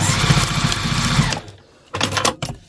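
A sewing machine stitches a seam through layered fabric for a small packing pod or wet bag, giving a loud close motor whir that stops, then a second short burst of stitching.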